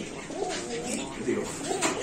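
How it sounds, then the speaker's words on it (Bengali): A banja pigeon cooing, soft low repeated coos in short bursts, close by under a man's speech. "এখানে আছে একটা বানজা কবুতর এগুলো অরিজিনাল বানজা কবুতর"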